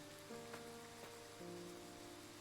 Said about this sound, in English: I doubt the rain will let up anytime soon.